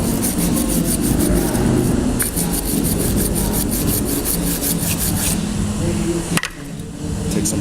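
Front brake parts being scrubbed with a brush during a pad and rotor job, a steady, close, rasping scrub that runs almost unbroken, with quieter strokes toward the end.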